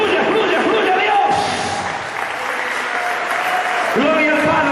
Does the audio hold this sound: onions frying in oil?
no